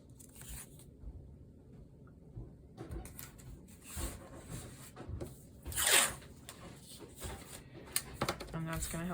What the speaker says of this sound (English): And I'm gonna stick my masking tape to my clothes.